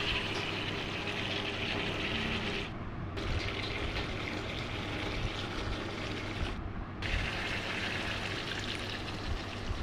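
Water pours into a cooking pan of spiced meat, a steady close rushing hiss that breaks off twice for a moment before resuming.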